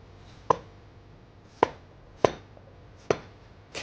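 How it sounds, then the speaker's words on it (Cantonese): Knife chopping peeled kudzu root on a board, four sharp, separate thuds about a second apart, close and clear over quiet room tone, no talking. "咁你切粉葛咧，"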